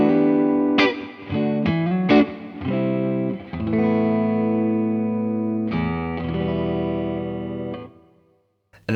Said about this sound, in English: So I can go out live and have a sound like this.